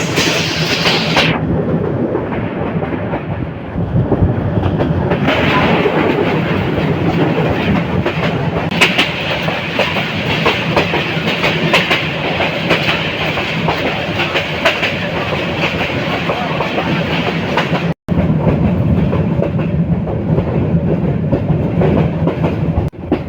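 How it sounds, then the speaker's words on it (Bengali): Teesta Express passenger train running on rails through the Bhawal forest in Gazipur, a steady loud rumble and clatter of the carriages that lasts throughout, broken by one brief cut near the end. "বর্তমানে আমাদের ট্রেনটি আছে ভাওয়াল গাজীপুরের বন বিভাগের ভিতরে"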